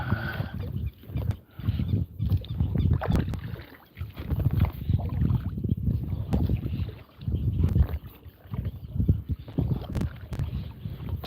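Kayak being paddled on the Pranburi River, with repeated close strokes and water splashes in an uneven rhythm, plus some wind noise on the microphone.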